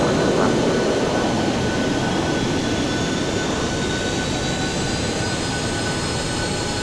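Airliner jet engines taxiing in the Prepar3D v4.2 flight simulator at Gatwick: a steady, loud, unbroken roar with a faint high whine running through it and no voices.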